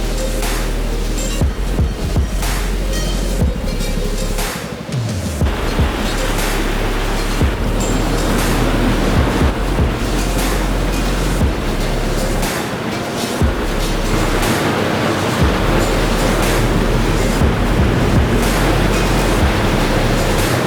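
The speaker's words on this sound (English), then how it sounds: "bunch of cascading waterfalls all in succession, and each of them has a basin where you can just swim in" A series of cascading waterfalls in Sri Lanka pours into natural swimming basins, making a loud, continuous roaring rush of water that stays dense and steady throughout.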